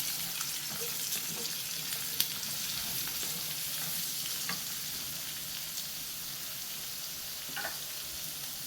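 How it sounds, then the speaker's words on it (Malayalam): Two chopped onions sautéing in a pan for a chicken sausage pepper fry give a steady, close frying sizzle. Faint scrapes and clicks of stirring come and go throughout, with no voices. "ഈ സവാള നല്ലതുപോലെ നമുക്കൊന്ന് വഴറ്റിയെടുക്കണം"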